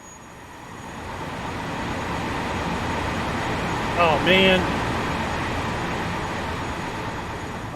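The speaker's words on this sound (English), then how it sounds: "Oh, we had two trains. Oh, there's another one." Trains rumbling past in Farming Simulator 19, a steady broad roar spanning the clip with a brief burst of speech partway through.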